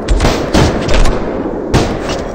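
Gunfire in a gory VR shooting game, several sharp loud shots in an irregular burst, each with a short boomy tail, close and dominant.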